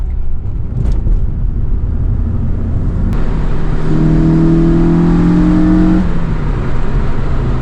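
An Acura TSX CL9 six-speed engine rumbles loudly up close and then revs and accelerates, the pitch rising in a strained whine before easing off.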